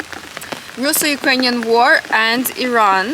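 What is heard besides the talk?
rain falling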